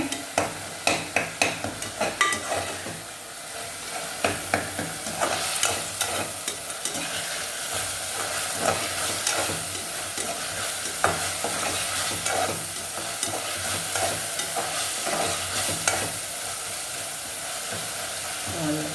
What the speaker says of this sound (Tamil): நல்லா அந்த பச்சை போகிற வரைக்கும் நல்லா வதக்கி விட்டுருங்க